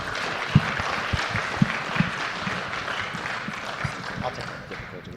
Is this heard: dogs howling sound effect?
no